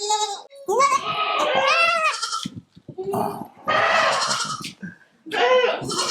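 Newborn Jamunapari goat kids bleat loudly and repeatedly at close range, in long wavering cries separated by short gaps.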